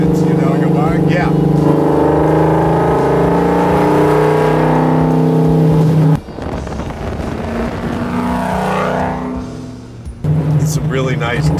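Plymouth GTX with a 440 big block V8 making 625 naturally aspirated horsepower, a loud steady engine drone that drops off as it decelerates, with crackling exhaust pops, heard from inside the car under someone talking.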